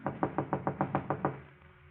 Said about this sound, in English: a knock at Gloria's apartment door